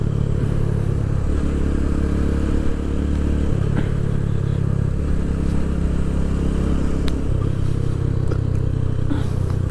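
A motorcycle cruising steadily in fourth gear near a beach, its engine droning continuously and loud with slight shifts in pitch and a few faint clattery ticks over the ride.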